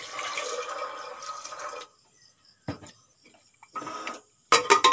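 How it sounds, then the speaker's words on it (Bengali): Water splashes into a pressure cooker holding soaked peas and a potato in a Bengali home kitchen, pouring in a steady gush for about two seconds, then short clinks and a second burst of pouring. "এখন দিয়ে দেব জল।"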